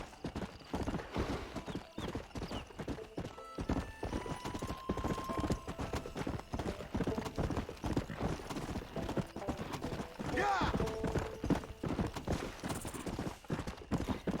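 Steady hoofbeats of a galloping horse in the video game Red Dead Redemption drum on continuously, close and loud, with a brief whinny partway through.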